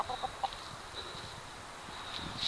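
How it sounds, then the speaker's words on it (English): A chicken clucks a few times softly at the start and again near the end, faint and at some distance over a steady outdoor background hiss, with no voices. "That's a chicken. She's mean as hell."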